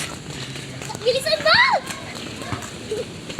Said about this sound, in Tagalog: Mga naglalaro mga bata guys.